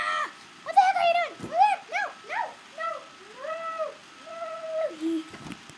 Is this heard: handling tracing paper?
no